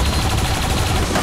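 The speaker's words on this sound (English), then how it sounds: "That turret fired twice already" Turret gunfire in the video game XCOM 2, a dense, continuous crackle of rapid shots filling the short moment at steady loudness with no pauses.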